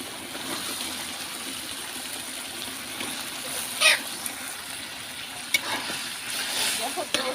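Liver meat dropped into spices frying in a pan, giving a steady close sizzle with a brief louder hiss burst partway through and a few light clinks near the end.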